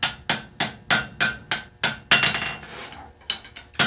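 Steady, light hammer taps on hot steel while forging a cross pein hammer, about a dozen close, ringing strikes in a brisk rhythm with a short pause near the end.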